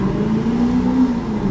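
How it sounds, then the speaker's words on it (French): Steady roar of Monaco Grand Prix racing car engines nearby, a sustained droning whine that holds at a constant pitch without letting up. "On entend des voitures de fou depuis tout à l'heure parce qu'on est juste à côté en fait du Grand Prix"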